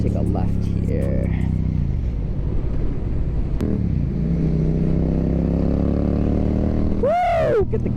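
Yamaha MT-07 motorcycle fitted with an Akrapovic exhaust, heard while riding: a steady engine drone mixed with wind noise throughout, a brief sharp transient partway in, and a rising whistling sweep near the end.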